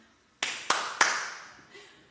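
Three sharp hand claps in quick succession, close and loud in a room with a short reverberant tail, followed by a faint voice.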